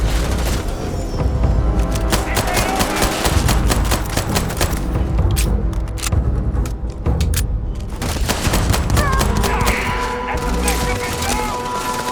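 Continuous gunfire during a ship battle in Starfield, a dense rapid stream of booms and cracks with loud thuds and clatter layered over a rumbling bed, and voices talking under the noise.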